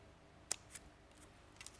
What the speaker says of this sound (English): let me get the big scissors and snip this out